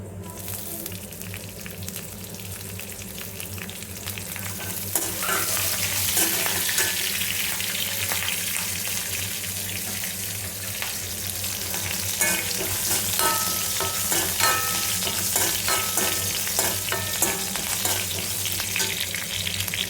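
Green chillies fry in a hot pan with a steady, loud sizzle that swells and thickens about five seconds in, with occasional stirring clicks and no talking.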